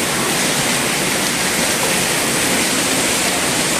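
Water leaking in and pooling, heard as a loud, steady rushing wash of flowing water that continues without a break for the whole stretch.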